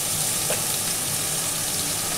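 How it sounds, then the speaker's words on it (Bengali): Rohu fish pieces frying in a pan, a continuous close sizzle of hot oil, steady and fairly loud, with no speech. "সেই 2টো মাছকেও আমি একইভাবে ভেজে নিচ্ছি।"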